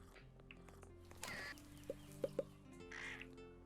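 A rooster clucks a few short, faint times in the video game Rain On Your Parade, set over a quiet game music background.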